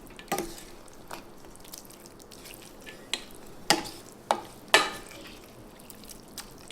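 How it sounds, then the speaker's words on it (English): Onions frying in a pan with ground beef for a keto Korean beef dish are stirred, giving faint sizzling beneath scattered louder scrapes and clinks of the utensil against the pan. "So we're going to put those onions in here to get a little bold flavor. Then we're going to mix that all around."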